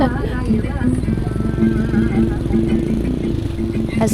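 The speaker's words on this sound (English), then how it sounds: "as we climb higher, the engine's roar grows louder." A vehicle engine labors up a mountain road near a remote Kazakh village in China's far west, a steady, throbbing drone that holds through the whole stretch beneath a talking voice.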